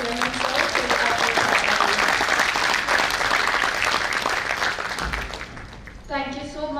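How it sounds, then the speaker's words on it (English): An audience at an MBA orientation event applauds loudly and steadily for several seconds, the clapping fading near the end as a voice begins to speak. "May I request the audience to kindly have a big round of applause for our Vice Chairman, Sir Shri Arpit Chadha ji."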